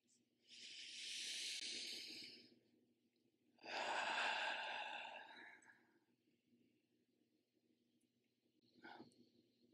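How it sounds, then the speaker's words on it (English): Two slow, deep breaths drawn in and let out as a guided breathing exercise, each a long soft airy rush lasting about two seconds, fairly close and alone, with a brief faint sound near the end. "So just take 2 deep breaths in."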